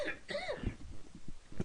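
A person coughs and clears their throat in a few short, harsh bursts at close range, followed by scattered quieter throat sounds.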